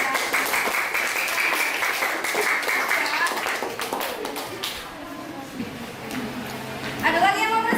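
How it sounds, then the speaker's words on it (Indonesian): Classmates applaud a presenting group in a school classroom, a lively patter of many hands that thins and fades toward the end as a voice begins speaking over it. "kita beri tepuk tangan buat kelompok 2 yang sudah presentasi."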